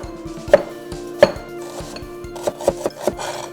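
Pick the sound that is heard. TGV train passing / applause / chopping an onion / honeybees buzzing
chopping an onion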